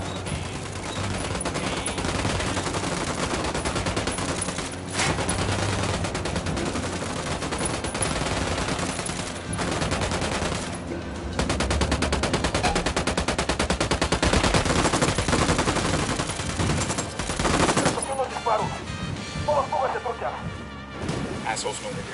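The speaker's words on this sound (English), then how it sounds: "Opening fire." Dense, continuous gunfire roars for the whole stretch, with sustained automatic bursts and crashing impacts packed close together. Voices talk underneath the racket.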